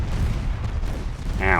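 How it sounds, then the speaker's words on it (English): Dull, heavy rumbling blast as a torpedo strikes a warship in a naval strategy game, a sustained low boom filling the moment, followed by a faint higher tone near the end. "Oh, I've got a torpedo hit."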